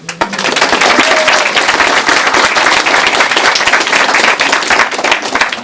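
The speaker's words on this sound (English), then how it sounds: "So another round of applause, not for me, not for Water Street," Audience clapping steadily at a bookstore author launch event, a dense sustained round of applause from a room full of people, loud and close, without talk.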